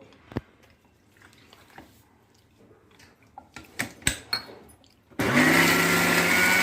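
Mixer grinder grinding spinach for palak: a few light clinks and taps of the jar and lid, then the motor bursts on loud and close, a steady high whirring roar.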